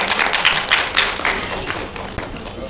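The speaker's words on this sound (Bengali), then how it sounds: "একটি জোরে করতালির সঙ্গে আহ্বান করুন" Audience applause welcomes a performer at a Bengali poetry and recitation stage program: a dense, steady patter of many hands clapping from a crowd, moderately loud, easing off slightly toward the end.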